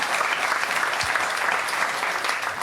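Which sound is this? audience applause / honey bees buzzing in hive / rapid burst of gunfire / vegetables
audience applause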